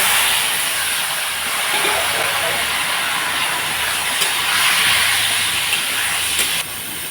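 Taro greens drop into leftover fish-frying oil with spluttering cumin seeds and dried red chillies, giving a loud, constant close sizzling hiss that eases slightly near the end.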